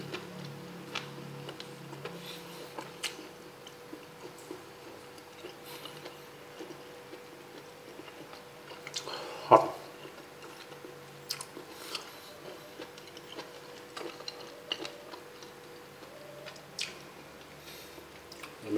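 Someone chews crispy, chewy cooked meat close to the microphone, with soft, irregular crunches and wet bites over a faint steady background hum, one sharper crunch near the middle.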